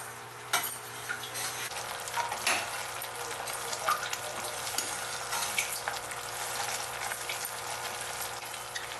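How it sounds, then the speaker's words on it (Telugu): A sweet mixture is stirred through hot sugar syrup in a pan, giving a steady soft sizzle and bubbling with occasional scraping and clinks of the spoon, no voices. "చక్కగా వీటన్నిటిని షుగర్ పాకంలో వేసేసిన తర్వాత మనం మంచిగా ఇలా మిక్స్ చేసుకోవాలి."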